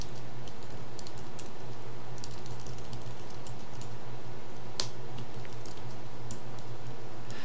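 Steady close-up typing on a computer keyboard while a C++ program is written, continuous rapid clicking of keys with a low background hum and no talk.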